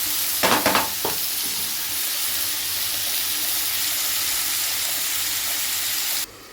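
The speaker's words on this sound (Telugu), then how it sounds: "ఇది మంచిగా మనకి మగ్గాలి కదా ఉల్లిగడ్డ ముక్కలు అనేవి" Chopped onion pieces cook with salt in a pan, giving a steady, close sizzling fry throughout, opened by a few brief stirring clatters near the start and ending abruptly.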